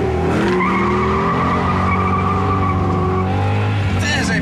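A 2006 Ford Mustang GT V8 with a manual five-speed transmission roars loudly through a 0-100 km/h run, engine pitch climbing through gears with tire squeal, close and continuous.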